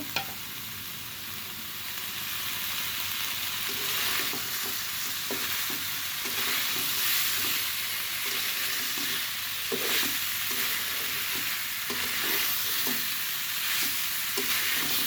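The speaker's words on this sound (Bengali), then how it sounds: "এখন ভালো করে কষিয়ে নেব" Ground spices with green and dry red chillies fry in a pan under steady stirring, a constant loud sizzle overlaid by soft rhythmic scrapes of the spoon, heard close with no talk.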